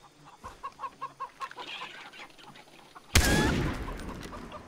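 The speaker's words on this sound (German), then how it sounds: "Ah, Hühner können wir auch jagen." Chickens in Far Cry 3 cluck in a quick, rhythmic run of close calls. A sudden loud bang cuts in and leaves a noisy rumble behind it.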